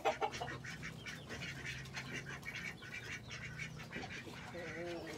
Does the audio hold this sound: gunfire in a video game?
no